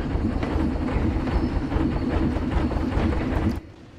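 Roller coaster train from the Planet Coaster video game rumbling steadily with a clickety-clack rhythm, loud and close, then cutting off abruptly near the end.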